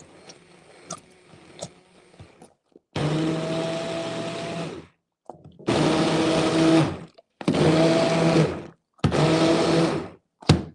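A meat grinder or blender grinds Italian sausage skins for gravy in a kitchen, running in four loud sustained bursts with short pauses between, after a quieter stretch of clatter and handling.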